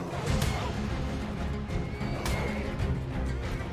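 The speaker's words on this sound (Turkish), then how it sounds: "Atlar beni kovalıyor." Horses in the survival game ARK whinny and neigh repeatedly in the foreground, with clip-clopping hooves and occasional speech over a steady busy game background.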